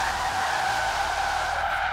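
Continuous tire squeal from a car drifting in Forza Horizon 3, a loud steady high-pitched screech over the engine drone, held for the whole moment with no talk.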